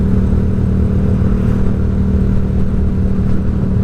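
A Yamaha MT-07 motorcycle riding at slow speed, its steady engine drone and road rumble continuous and close throughout with no notable revving.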